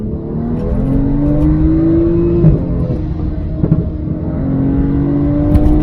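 BMW 135i engine drones and rises as it accelerates, with a steady high rear differential whine climbing in pitch above the rumble, heard from inside the car with windows up and solid rear mounts fitted.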